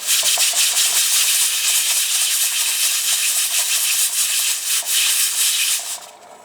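A steady, loud hiss of steam escaping from a pressure canner processing jars of meat spaghetti sauce, pulsing slightly, then cutting off near the end.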